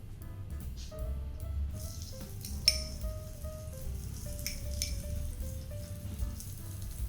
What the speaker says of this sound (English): We'll fry a little bit of the curry leaves. Roast a few onions.